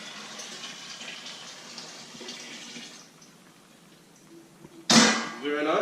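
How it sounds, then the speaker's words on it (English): Boiling water is poured into a container already holding cold water for a homemade honey whiskey mash. After a quieter stretch of low hiss, a sudden loud, close splash and pour bursts in near the end and keeps running. "Adding a little bit of boiling water."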